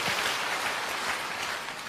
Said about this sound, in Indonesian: Mari kita kasih tepuk tangan sekali lagi buat Allah kita